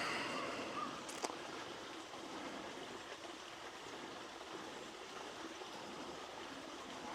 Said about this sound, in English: this is one of the streams that feeds into the lake